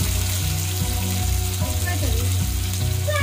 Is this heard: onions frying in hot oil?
yes